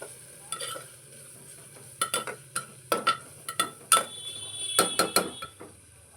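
Spoon scrapes and taps in a pan as spices for masala khichdi are stirred, a series of sharp metallic clinks over a soft sizzle, close and fairly quiet.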